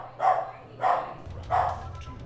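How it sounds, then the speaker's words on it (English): A dog barks three times in a steady rhythm, fairly near, over low background noise. "Oh, sorry if you hear my dog."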